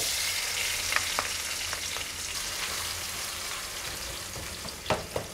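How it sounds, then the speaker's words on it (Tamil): Chopped onions sautéing in hot oil with fennel, cinnamon, cloves and cardamom for a Kerala kadala curry, a steady close sizzle and crackle with a few sharper pops and spatula stirs, no talking. "வெங்காயம் கொஞ்சம் டிரான்ஸ்பரண்ட் ஆகிற வரைக்கும் வணங்கட்டும்."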